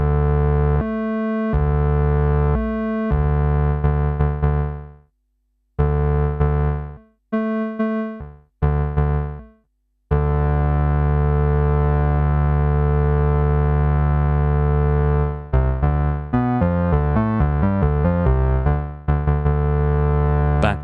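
A buzzy, metallic Elektron Analog Four synthesizer tone using a metal oscillator blend mode sustains with gaps and stabs, then holds long notes that warble and sweep with rhythmic modulation.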